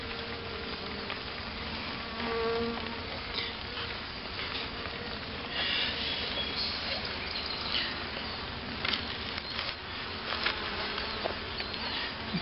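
Carniolan honey bees buzz continuously inside a hive, a dense, steady drone with slight swells, close up, no talking.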